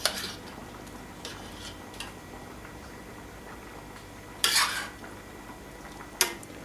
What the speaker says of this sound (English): Next step is to put the vegetables and meat on the couscous grain.